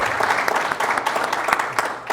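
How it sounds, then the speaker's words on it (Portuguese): An audience claps together in steady, dense applause for about two seconds, close and fairly loud, with no voices over it. "Uma salva de palmas, bate palma!"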